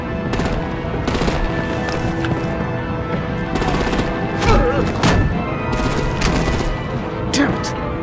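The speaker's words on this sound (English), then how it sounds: "Break out the artillery and disable their vehicles!" Rapid bursts of heavy gunfire in the Batman: The Enemy Within video game, repeated volleys and thuds rattling over a dense battle din, with voices briefly heard under the shooting.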